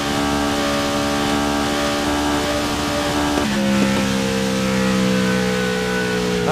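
A Holden Commodore race car's engine in the racing game GRID 2019, a loud close steady drone with a sudden drop in pitch partway through, as on a gear change, then holding again.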